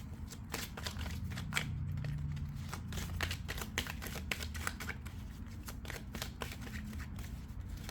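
Rapid papery riffling of tarot cards being shuffled, a steady run of crisp snaps over a low rumbling background, close by.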